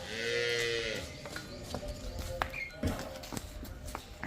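A heavy, recently calved female buffalo on a dairy farm gives one loud, close, drawn-out moo. Quiet barn ambience with scattered small taps and knocks follows.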